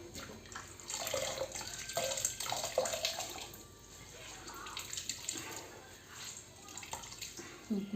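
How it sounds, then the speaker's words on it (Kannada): Water squeezed and dripping from pressed, hand-wrung bamboo shoots, a steady wet splashing and trickling with short bursts, close and moderately loud, no talking. "ಇವಾಗ ಈ ಥರ ಪ್ರೆಸ್ ಮಾಡಿ ಚೆನ್ನಾಗಿ ಕೊರೆದು ಹಿಂಡಬೇಕು ನೋಡಿ. ಸೊಕ್ಕು ನೀರೆಲ್ಲ ಫುಲ್ ಹೋಗಬೇಕಾಗುತ್ತೆ."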